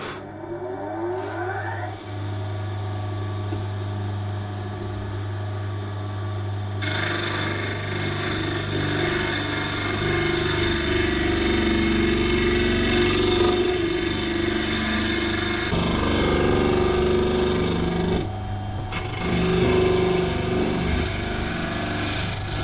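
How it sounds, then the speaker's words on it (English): A disc sander grinds the end of a wooden cavity cover, a steady loud motor whine with a rougher abrasive rasp rising from about seven seconds as the wood is pressed against the spinning disc, continuing to the end. "I'll do this end first because I can get that straight onto the disc sander"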